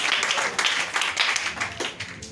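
An audience at a church gathering applauds for the children, a steady patter of many hands clapping at moderate volume, with a little voice mixed in.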